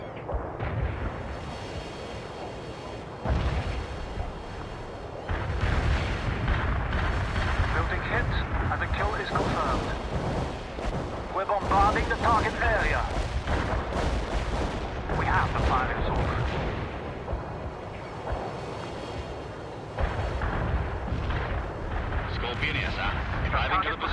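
Heavy artillery booms and rumbling blasts roll through a World in Conflict battle, deep and sustained, with radio-style voices talking over them.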